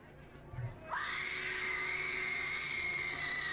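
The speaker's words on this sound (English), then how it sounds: "somebody's screaming way too loud" People at a zombie walk in Salem, Massachusetts, with a loud, sustained scream starting about a second in and holding steady over a noisy outdoor crowd.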